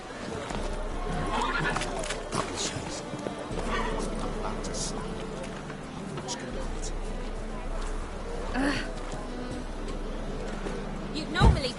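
Horse galloping and neighing in the video game The Witcher 3, with steady clip-clop hoofbeats running throughout under a rider's urging voice, a whinny near the end, and game background sounds mixed in.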